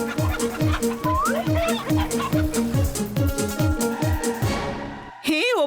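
Cartoon chickens cluck in quick repeated bursts in a Motu Patlu jungle safari scene, over a steady rhythmic backing, with a brief voice near the end.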